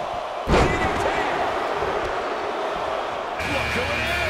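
Cheering crowd noise fills an arena in the WWE 2K22 wrestling video game, a dense continuous roar opened by a sharp slam and swelling again near the end.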